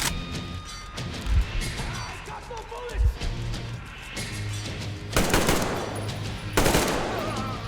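Rifle gunfire in the shooter Metro Exodus on Ranger difficulty, a few sharp shots and bursts cracking out at intervals amid rustling and impacts, with a voice speaking over parts of it.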